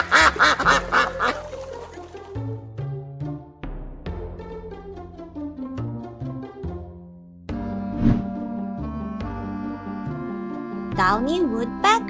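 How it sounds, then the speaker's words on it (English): An eider duck calls amid dense, harmonic sounds, with repeated short cooing and quacking notes over a steady bed; loud and close throughout. "Eider duck."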